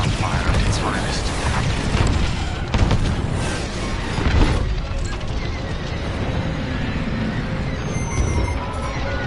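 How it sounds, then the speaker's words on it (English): Heavy booming ion cannon blasts in a space battle video game, repeated thumping discharges layered over a continuous roar of combat, with a voice speaking over parts of it. "Ion fire at its finest."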